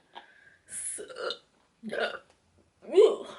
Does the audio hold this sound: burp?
yes